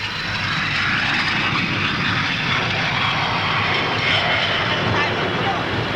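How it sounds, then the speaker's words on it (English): A 1950 jet aircraft lands at the Farnborough air show using tail brake parachutes, giving a steady, loud, continuous engine roar and rush that holds without a break throughout. "This amazing aircraft can lower its nose to give better landing visibility and uses tail brake"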